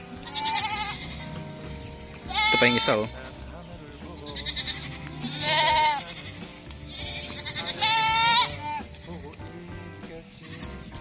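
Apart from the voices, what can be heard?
goats bleating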